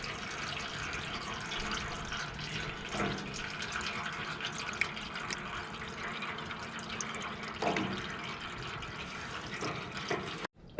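Motor oil drains from a lawn mower into a drain pan as a continuous soft liquid trickle and patter, faint and steady throughout with no talking.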